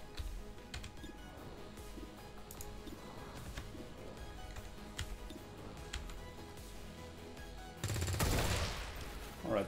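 Dense video game gunfire in XCOM 2, rapid crackling shots steady throughout a rainforest battle, then a louder, sharper burst of firing near the end.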